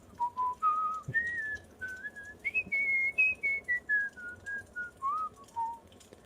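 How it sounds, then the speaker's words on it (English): A clear melodic whistle inside a dark house at night rises and falls in a wandering tune, close and alone against a quiet background. "I stood there, listening to the whistling coming closer"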